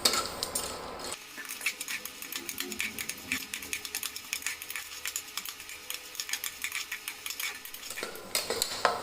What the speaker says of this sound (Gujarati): હવે આ બધાને લગભગ 2 થી 3 મિનિટ જેટલા શેકી લઈશું ધીમા તાપે.